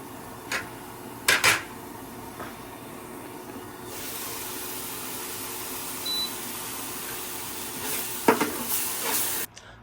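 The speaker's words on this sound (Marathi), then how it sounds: "आता मी सारण बनवते हे मोदकचं." Sweet modak filling is stirred and fried in a pan, giving a steady sizzle broken by a few clinks and scrapes of the spoon against the pan.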